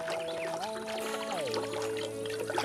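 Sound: water pouring while watering flowers, cartoon

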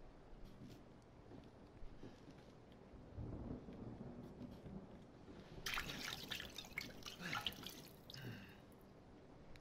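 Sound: water being poured and dripping

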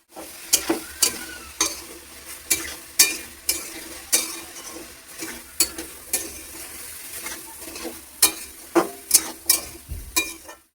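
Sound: bottle gourd frying and stirring with sautéed onions in pan

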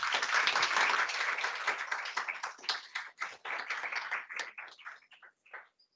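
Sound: audience applause for a presenter

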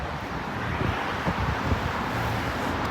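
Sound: wind outdoors

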